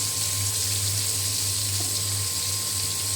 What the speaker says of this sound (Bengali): ওস্তা ভেজে নিচ্ছি।